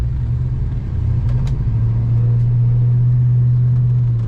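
A 1969 Buick Wildcat's engine pulls hard while driving, a loud, close, low rumble that builds and holds a steady droning tone as the big car accelerates.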